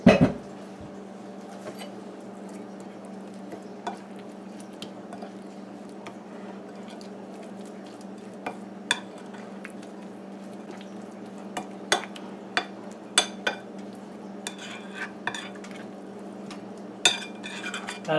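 Curry paste of ground garlic, pepper and garam masala is mixed in a bowl with water: soft scraping and stirring with occasional light clinks of a utensil, steady and close, over a low background hum; no talking.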